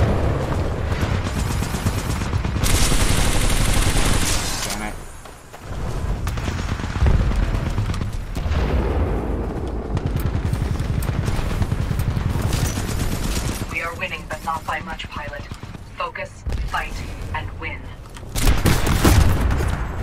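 Titanfall gameplay with dense bursts of gunfire and booming grenade-launcher explosions, loud and nearly continuous, with brief lulls and a player talking over the action.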